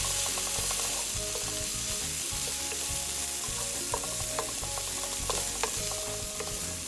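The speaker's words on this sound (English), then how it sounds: "we're gonna cook this around and saute the vegetables" Vegetables and garlic sautéing in a hot pan for shrimp in lobster sauce, a steady close sizzle with occasional scraping stirs and light clinks, no talking.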